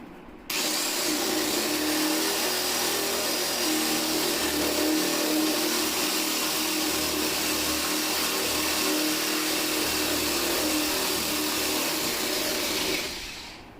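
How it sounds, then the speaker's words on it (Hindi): Power drill fitted with a boring attachment cutting into wood for a lock hole on a gaming table, a steady loud whirring drone that runs for about thirteen seconds before stopping. "ड्रिल में अटैचमेंट लगाकर इसे किया जाता है"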